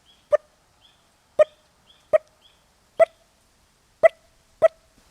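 Six sharp, clipped putt calls imitating a wild turkey alarm, spaced irregularly about a second apart, loud and close with silence between.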